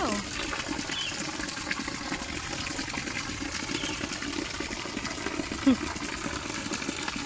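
Rainwater spills continuously off a house roof, a steady rushing, trickling wash of water heard up close with no break.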